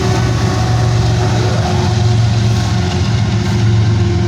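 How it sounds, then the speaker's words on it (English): A freight train's DPU locomotive pushes at the rear, its diesel engine working hard with a loud, steady low rumble and drone that holds throughout, with no talk. "Boy, that engine's working hard."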